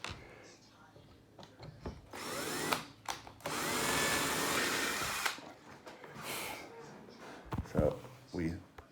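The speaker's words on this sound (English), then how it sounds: "So we drilled the hole." A drill bores a hole in wood, with one loud sustained whine lasting a few seconds amid short clunks and handling noises, and people talking nearby.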